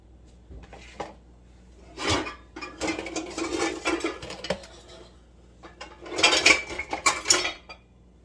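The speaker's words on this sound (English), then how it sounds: "I'm going to grab a pot for my spaghetti noodles" A cooking pot for spaghetti noodles is pulled out in a home kitchen with metallic clanks, scrapes and rattling of pans and utensils in a few clustered bursts, close and moderately loud, separated by quiet gaps.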